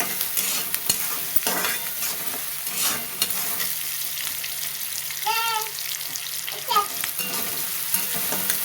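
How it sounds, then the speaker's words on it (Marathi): Safflower greens sautéed in a pan, heard as continuous close stirring and scraping under a soft frying sizzle, with brief faint knocks and clinks in between. "हे बघा असं मस्त परतून घ्यायचं दोन्ही एकत्र मिक्स होतात"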